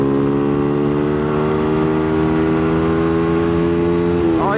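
A motorcycle runs along a dual carriageway, its engine a loud, steady droning hum with a stable pitch that climbs sharply right at the end as the throttle opens.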